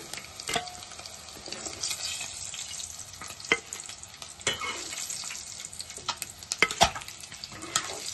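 Green chillies and sliced onions fry in hot oil while being stirred, producing a continuous close sizzle broken by sharp scraping and clinking spatula hits, with no voices.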